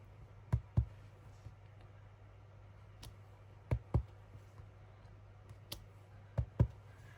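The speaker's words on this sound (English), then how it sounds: "So I just cut the sentiments out and use the label stamp" A label stamp pressed down repeatedly to mark paper sentiments for junk journal crafting, giving faint sharp clicks and taps, often in quick pairs, spaced out over a quiet room hum.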